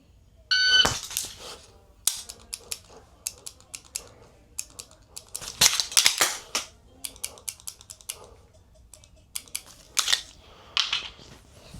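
A shooting drill at steel targets starts with a short electronic beep, followed by sharp, loud gunshot cracks in irregular clusters with brief pauses between strings of fire.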